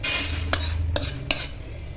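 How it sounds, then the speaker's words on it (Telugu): Roasted coriander seeds are scraped out of a pan onto a plate, with three sharp utensil taps against metal over a soft background hiss. "సో ఇప్పుడు వీటిని తీసి వేరే ప్లేట్లోకి అయితే వేస్తున్నాను."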